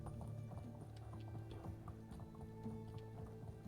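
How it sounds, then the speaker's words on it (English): Horse hooves clip-clop in a steady walking rhythm while riding in the medieval video game Medieval Dynasty, soft and even beneath faint background ambience. "I'm kind of spoiled on horses right now, because it does make the travel a lot better"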